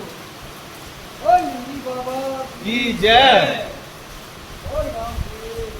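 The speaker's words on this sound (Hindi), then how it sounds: "खूब तेज बारिश आ गई है।" Heavy rain pours down at the Shri Shyameshwar Mahadev temple in Chhapkauli, Hapur, making a steady broadband hiss beneath someone talking close by.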